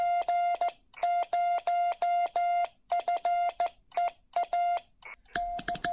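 Hand-keyed Morse code sends CQ on a low-power 40 metre amateur radio rig, a single steady tone beeping in short and long pulses in rhythmic groups, clear and close, with a brief burst of static near the end.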